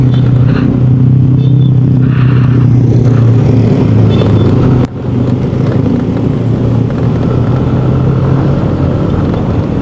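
Several motorcycles pass close by on a road in Bogor, a steady loud engine rumble filling the scene with a brief dip midway, heard from among the group.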